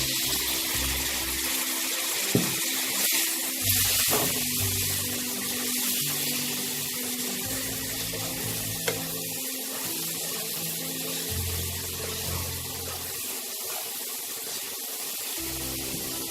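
Water poured into a cooking pot while making Bengali bhuna khichuri, a steady continuous splashing rush heard up close and fairly loud throughout.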